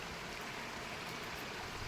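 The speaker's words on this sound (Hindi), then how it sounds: "24 घंटे चलता रहता है ये पानी।" Water in a small stream flowing continuously at a steady level as a broadband rush, close by and alone, in Uttarakhand at sunset.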